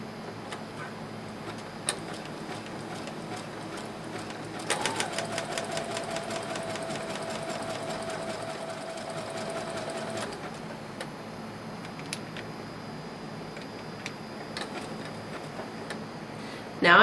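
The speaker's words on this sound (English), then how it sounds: "And I'm going to lower my presser foot, and I'm going to begin stitching." Zigzag stitching on a sewing machine working along a marked line on a pioneer dress apron, a steady rapid mechanical whir and ticking that runs for several seconds over quiet room noise, with brief clicks before and after.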